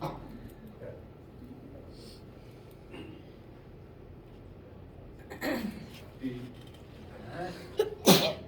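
Someone sneezes sharply near the end, preceded by a smaller sniff or sneeze, against a quiet physics lecture room with faint background speech.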